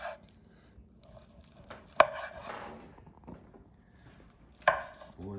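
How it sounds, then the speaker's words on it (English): A knife slicing through home-smoked corned beef pastrami on a board, with quiet scraping strokes punctuated by two sharp knocks of the blade meeting the board, close and fairly soft, with no talking. "So let's get in here and start cutting some slices off here."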